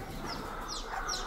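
Chickens in a flock where chicks have gone missing cluck in short, scattered calls over a steady background murmur of the coop, moderately loud and close.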